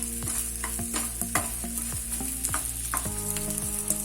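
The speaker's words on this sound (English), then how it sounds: "You should fry this properly." Dry fruits frying in a pan for karadantu, a dense steady sizzle with crackling and stirring clatter up close, alone without speech.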